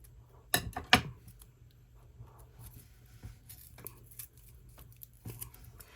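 Sharp scissors snip through a larger piece of mixed-media craft material, with two quick crisp cuts close up, followed by quiet handling and light rustling, then one more soft snip.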